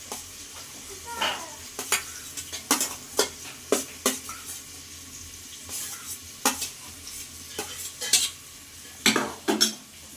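Onion, carrot and green chili sautéed in a pressure cooker for a quick biryani, a light sizzle broken by a series of sharp scraping and clinking spoon strokes against the metal pot, irregularly spaced.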